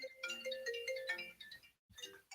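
A phone ringtone plays a bright, repeating electronic melody, clear and fairly close, pausing briefly near the end before starting again, with no talk over it.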